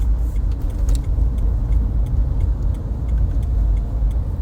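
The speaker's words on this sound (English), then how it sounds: "that's 3 cars in a row that just drove very quickly into my blind spot" Several cars rush past on a road, heard from inside a moving vehicle as a steady, loud rumble of engines and tyres with no talking.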